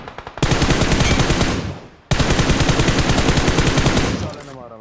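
Sustained automatic rifle fire from a SCAR-L in the mobile battle royale game BGMI, two long loud bursts of rapid rhythmic shots separated by a brief pause, close and dominant.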